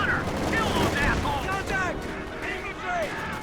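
Bursts of rifle and machine-gun fire from a Company of Heroes 2 battle between US, Soviet and British forces and German troops crackle continuously beneath a voice.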